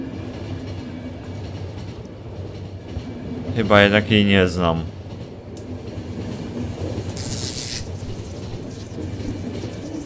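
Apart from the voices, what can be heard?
train running, from video game The Final Station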